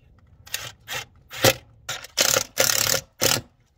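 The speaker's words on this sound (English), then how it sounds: "And then we'll just screw it in." A self-tapping Phillips screw is driven into a pilot hole while fitting an RV storage light, heard as seven short, close mechanical bursts separated by silence.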